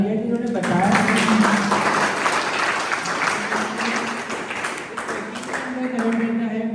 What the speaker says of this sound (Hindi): तो इनके लिए जोरदार तालियां कि इन्होंने बताया